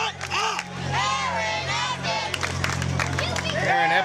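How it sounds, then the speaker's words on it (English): A wrestling crowd at a Brawl USA event cheers, shouts and claps under loud voices talking over it, the crowd noise continuous in the background. "this crowd is firmly behind Aaron Epic"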